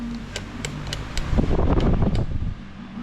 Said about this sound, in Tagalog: So, syempre, patayin natin pala yung electric fan.